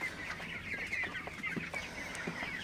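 Broiler chickens on a poultry farm at night, a flock clucking and chattering steadily with overlapping short calls at moderate distance, no voices.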